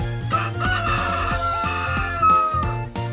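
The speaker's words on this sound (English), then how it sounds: "I am a rooster." A rooster crows amid steady rhythmic music with a repeating low beat, the crow blending into the backing track rather than standing alone.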